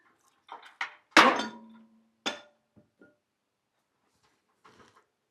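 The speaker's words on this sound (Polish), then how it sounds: "to był młotek?" A hard metallic clatter as a hammer drops and bangs onto a surface, followed by a few smaller knocks and faint rattles before quiet.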